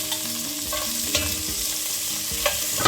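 Pork cheeks sear in hot fat in a pan, a close, steady sizzle punctuated by a few sharp scraping stirs.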